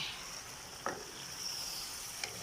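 Thick soy-sugar sauce reducing in a pan for soy-braised pork belly, a steady faint sizzle and bubbling with two brief clinks, no talk.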